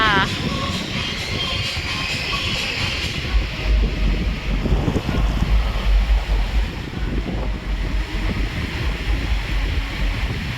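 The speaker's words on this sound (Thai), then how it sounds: "ลมแรงมากค่ะ" Strong wind roaring across the microphone with surf washing on a beach at night on Samui, a continuous loud rush with waves beneath, while someone speaks over it.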